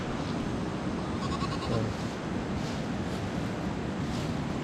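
Goats, a small group of three roaming loose near a clean stream at an outdoor picnic spot, give a bleat or two midway through, fairly faint over a steady wash of wind and water.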